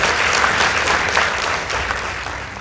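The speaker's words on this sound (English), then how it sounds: "Please give them a round of applause" An audience at a high school debate contest applauds a girls' school team, a dense, steady burst of many hands clapping that fades slightly toward the end, with no voices over it.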